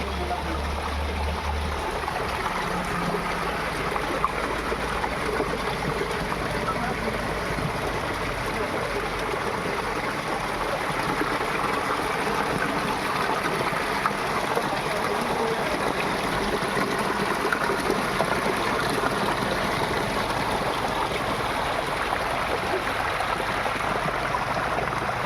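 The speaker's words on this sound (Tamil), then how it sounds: "தண்ணி நல்லா போயிட்டுருக்கா?" Steady, broadband rush of water flowing at Krishnagiri dam, continuous and fairly close with a faint low rumble early on, no voices over it.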